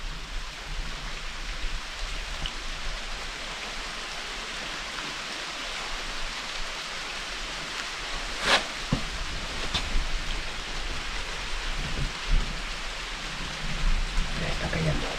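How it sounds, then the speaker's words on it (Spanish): Steady rain pouring outdoors during a thunderstorm, a dense continuous hiss with scattered louder spatters and occasional low distant rumbles swelling toward the end. "De repente empezó a llover."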